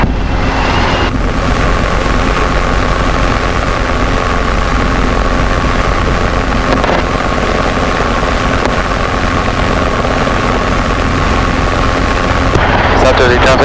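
A Robinson R22 helicopter's engine and rotor run in flight, a loud, steady droning whine with a constant pulsing rotor beat heard from inside the cabin, and radio chatter briefly breaks in near the end.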